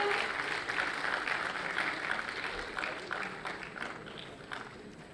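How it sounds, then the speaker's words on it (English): Audience applause at a school annual day celebration, a steady wash of many hands clapping that fades gradually over a few seconds, with some voices mixed in. "Please give a big round of applause,"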